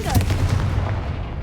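A blasting spell cast in a Hogwarts Legacy fight hits with a loud, booming explosion that rumbles on heavily before fading, like artillery fire.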